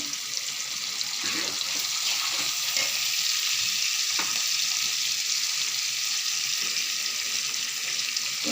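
Mutton fries in a pan with ginger garlic paste, giving a steady, loud hiss and crackle throughout, close up and unbroken, with faint stirring scrapes now and then.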